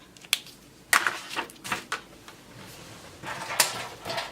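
A paper trimmer slices through a page of a memory planner booklet, giving a few sharp close clicks and scraping blade strokes with quiet gaps between them.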